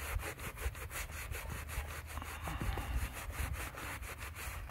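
Vigorous back-and-forth scrubbing of the thermostat mounting surface on a Cadillac XT5 engine, a steady rhythmic rasping close by, with no talking.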